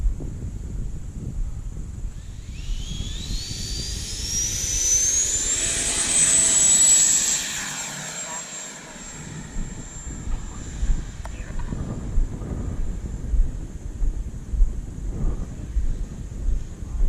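A Freewing T-45 Goshawk 90mm electric ducted-fan RC jet screams past, its high turbine-like whine swelling and sweeping in pitch as it flies overhead, then fading into gusty wind noise.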